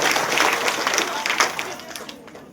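An audience at a women's seminar event in Chintamani claps in a burst of applause, loud at first and tapering off toward the end.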